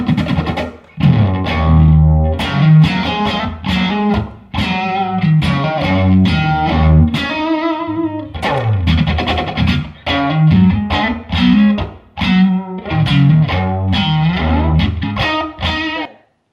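An electric guitar played through an overdrive followed by a vibe pedal rings out in distorted, swirling chords and riffs, loud and close with short pauses between phrases.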